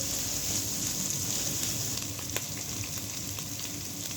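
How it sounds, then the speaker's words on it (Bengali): Whole green cardamom and cinnamon sauté in hot oil in a pan for a fish kebab dish, giving a soft, steady sizzle with one faint clink partway through. "ছোটো এলাচ আর দারচিনি দিয়ে দেব। এখন এটাকেও কষিয়ে দিচ্ছি।"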